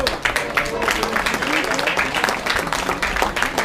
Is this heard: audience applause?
yes